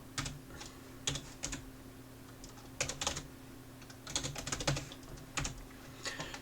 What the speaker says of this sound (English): we're going to sudo apt-get install, and we're going to type that word salad out.